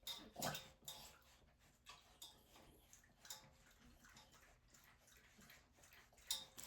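A dog laps water from a bowl nearby in a quiet room, making faint, irregular wet clicks and splashes with brief louder licks.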